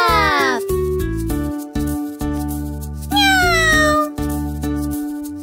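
A kitten in a children's bedtime cartoon story gives several loud, sliding meows over a bouncy animated music track.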